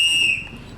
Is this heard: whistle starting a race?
yes